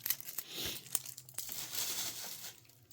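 A sports trading card slid into a bubble mailer with self-adhering tape, giving close, soft crinkling and rustling of plastic bubble wrap with a few sharper crackles, steady throughout with no talking.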